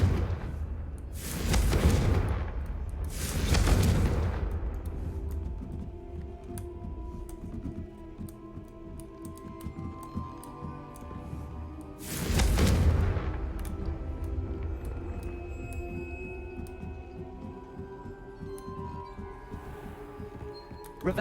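Confringo blasting spell explosions in Hogwarts Legacy: three heavy booming blasts, two close together early and one later, each with a deep rumbling tail, over quiet ambient crackles in between.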